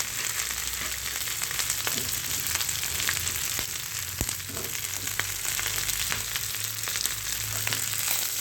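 Diced capsicum frying on high heat in a pan for a chilli tempeh dish, giving an even, continuous sizzle with a few light stirring clicks and no speech.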